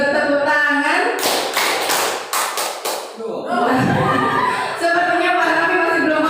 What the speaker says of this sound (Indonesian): Satu kali bertepuk tangan, dua kali bertepuk tangan, tiga kali bertepuk tangan.